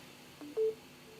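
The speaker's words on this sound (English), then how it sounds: "that was my phone, which for some reason actually made a sound when it started charging again" A phone gives one short, clear electronic beep as it starts charging, preceded by a couple of faint clicks against a quiet background hum.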